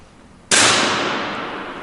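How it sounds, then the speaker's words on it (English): A BSA Meteor Evo Silentium air rifle fires a single sharp, loud shot that rings and fades slowly after a quiet lead-in. "Just fire that one off."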